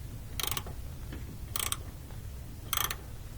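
Emergency brake cable adjuster on a GMC Yukon being tightened, giving three short ratcheting mechanical clicks about a second apart over a low steady background rumble.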